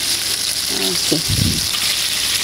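Shrimp with chilli frying loudly in a pan as it is turned over, a close, constant crackling sizzle with a brief murmur of voice in the middle.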